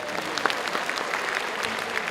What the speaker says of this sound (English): Clap for Shivani, everybody.